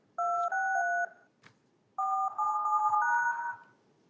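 Telephone keypad tones punch in an access code on a conference call line, one burst of several quick beeps, a short pause, then a second run of close, clear tones with no talking.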